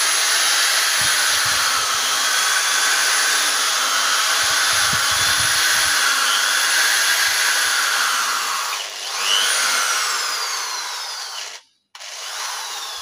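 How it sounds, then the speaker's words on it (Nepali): A home-use electric drill machine runs in a steady, loud, high whine that holds for several seconds, dips briefly, then cuts out sharply near the end before starting up again. "आज म तपाईहरुलाई यो ड्रिलले काँटी कसरी हान्छ म तपाईहरुलाई देखाउने छु"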